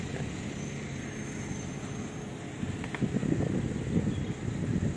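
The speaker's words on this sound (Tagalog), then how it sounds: "Super hangin dito." Strong wind blows outdoors around a Toyota Avanza at a parking area, a steady broadband rush that builds slightly louder in the second half with no talk.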